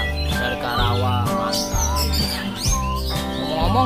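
A white-rumped shama (kacer) sings loud and close, with fast chirps, whistled slides and varied trills pouring out continuously over a low background drone at a songbird contest.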